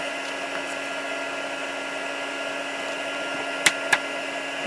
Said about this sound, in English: I'm going to turn my heat tool on and get it warmed up.